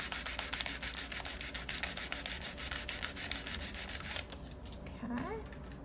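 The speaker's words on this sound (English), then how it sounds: "And we'll just rub it real good." Paper rubbed firmly over a handmade happy-birthday greeting card, a steady close scratchy swishing in quick repeated strokes that stops near the end, followed by a brief faint squeak.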